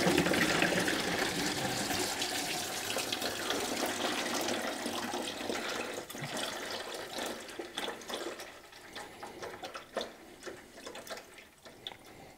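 Coolant water gushes and splashes steadily as it drains from a Volvo 945 radiator, then thins into irregular trickles and drips as the flow tapers off.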